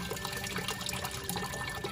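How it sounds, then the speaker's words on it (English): Coolant pouring out of a Cummins ISX CM570 truck engine during a water pump swap gives a steady, faint splashing and trickling stream of liquid, continuous and close. "we got the coolant draining"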